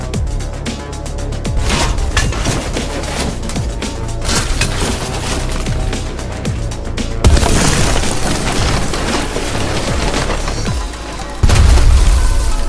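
A loud, sustained rumbling roar with a sudden heavier boom near the end, dense and close, like a large nuclear explosion in a city with debris crackling.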